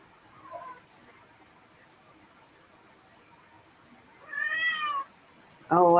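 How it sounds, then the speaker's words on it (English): A house cat meows three times from nearby in a quiet room: a soft short mew first, then a longer drawn-out meow, then a loud sharp one at the end. "Oh, I hear my cat."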